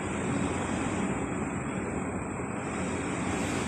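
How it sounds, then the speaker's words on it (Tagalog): Heavy typhoon rain and gusting wind roar together in a steady, dense wash, loud and unbroken. "ang lakas ng ulan"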